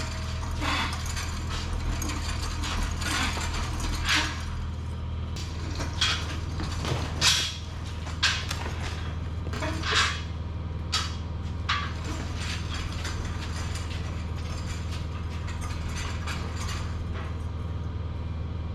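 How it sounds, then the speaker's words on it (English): A gantry crane hoist lifts a DoAll bandsaw in a workshop, giving a steady mechanical drone with a series of sharp ratcheting clicks and creaks, close and fairly loud. "let's get the gantry crane in here. Let's lift up this bandsaw"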